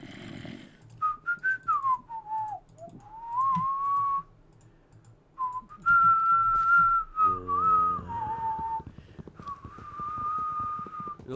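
Person whistling a wavering tune in separate phrases, close and clear, with clicks and keyboard-like tapping in the background.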